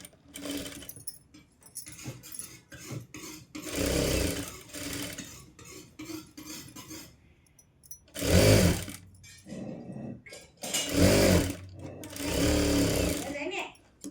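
A sewing machine stitches a katori blouse in several loud, sustained runs separated by pauses, while someone talks between and over the bursts of stitching.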